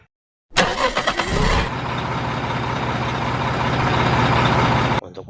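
A toy dump truck gives off an electronic engine sound: a rattly start-up burst, then a steady, close droning rumble that holds for several seconds before stopping abruptly.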